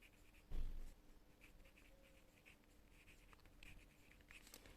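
A pen scratching on paper while probability exam solutions are written out, faint intermittent strokes after a short louder knock, no talking.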